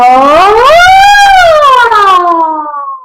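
A voice imitates a fire truck siren as a vocal warm-up, sliding up in pitch, holding, then gliding down slowly, loud and close with no other sounds.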